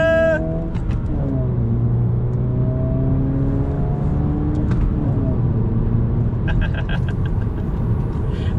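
A Dodge Dart accelerating up a hill, the engine note climbing steadily through the gear as it pulls, loud and close inside the cabin, with a voice speaking briefly over it.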